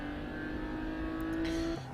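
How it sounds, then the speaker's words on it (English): A Choice Racing BMW race car, number 511, runs through the pits at an endurance race, its engine a steady, loud drone that shifts pitch near the end, with no talk over it. "Into the pits for the number 511 Choice Racing BMW."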